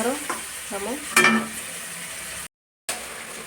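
Onions, cumin and salt fry in hot oil, giving a close sizzle that runs under brief stirring and clattering, with a short total dropout near the end.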